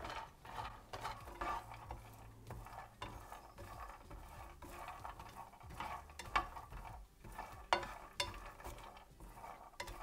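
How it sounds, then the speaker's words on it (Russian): Walnuts rattle and scrape across a hot pan over high heat as they are stirred, with a faint sizzle underneath; quiet, irregular clicks and shuffles, no talking. "Орехи обжаривал на раскаленной сковородке на большом огне."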